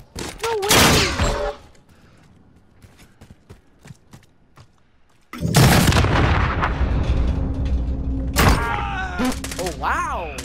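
A grenade explosion and gunfire in Call of Duty Modern Warfare: a loud burst opens, then sparse clicks, then a heavy blast rolls into sustained roaring battle noise, with an excited voice reacting over it.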